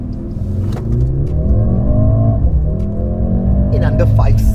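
A 2024 Mercedes-AMG GLC 43 Coupé with over 420 PS pulls away from standstill, its engine note rising steadily and loudly through the gears while a voice speaks over it.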